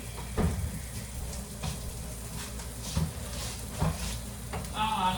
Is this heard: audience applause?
no